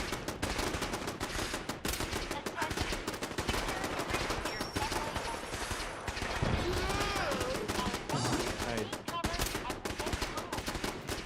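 Sustained gunfire in the Fallout 4 video game, rapid loud automatic shots crackling in dense bursts throughout a busy firefight, with a voice talking underneath at moments.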